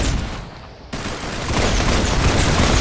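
Rapid gunfire from a weapon in the Roblox-style shooter Arsenal, a dense loud burst of shots starting abruptly and continuing steadily to the end, no talking.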